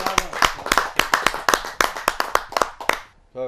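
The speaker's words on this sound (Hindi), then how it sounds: "मैं बिटिया प्रियंका राय को जोरदार ताली के साथ आमंत्रित करता हूं।" Irregular, sharp audience hand claps at a Hindi poetry gathering ring out close by for a few seconds, then stop abruptly.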